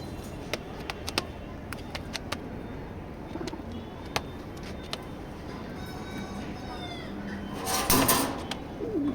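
A grizzle pigeon released from the hand gives soft coos, then a loud burst of wing flapping near the end, set against a steady background hum.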